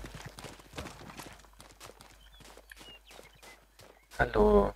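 Horse hooves clip-clop in the Rustler video game, a steady series of light trotting hoofbeats close by, rounded off by a louder burst of game sound at the end.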